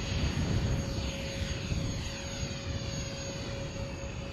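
A Freewing F22 64mm electric ducted-fan RC jet flies past in gusty weather, giving a steady, airy whine that holds at a constant level over a few seconds, heard from a distance and alone.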